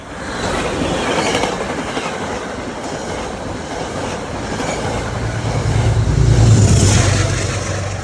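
A train rumbles steadily past close by on the Hudson line near the Philipse Manor station, its loud roar of wheels and cars swelling toward the end with a low droning hum.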